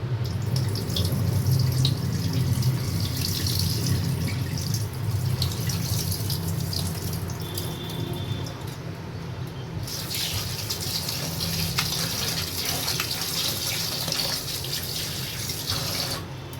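Tap water running steadily into a sink while cut taro (mankochu) is washed by hand, a loud close gushing stream with splashing and shifting texture throughout, no talking.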